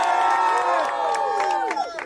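A crowd at a street boxing match cheers and shouts to vote for the fighter Kareem. The noise is loud and sustained and thins toward the end, with mixed voices and a few whoops over the din.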